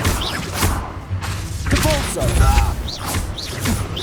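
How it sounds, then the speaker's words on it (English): Confringo spell impact in the video game Hogwarts Legacy, heavy thuds and a crashing burst layered with game effects, loud throughout. "Confringo."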